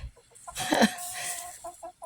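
Hens cluck and squawk close by in a chicken run in a short, agitated burst of fighting, with softer clucks before and after.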